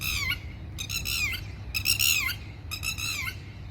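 A red-wattled lapwing in the Emirates gives four loud, harsh, piercing bursts of calls, close by, separated by short gaps over a low background hum.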